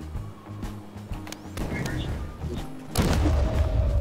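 Explosions and grenade blasts in the video game Garry's Mod, a series of muffled booms and thuds with a heavier blast near the end, under a player's voice talking.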